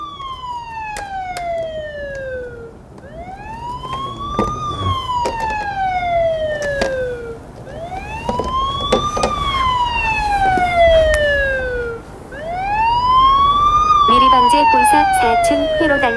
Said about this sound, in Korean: 현재 휴대폰에서 지금 사이렌 소리가 나오면서